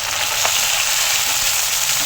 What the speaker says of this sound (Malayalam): ഒരു സെറ്റ് പൊരിഞ്ഞു, രണ്ടാം സെറ്റ് പൊരിക്കണം.